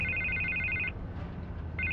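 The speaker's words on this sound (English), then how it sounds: "I can't get the phone to stop ringing." A telephone in Batman: The Telltale Series rings with a bright electronic trill, then pauses, then begins ringing again, over a low background hum.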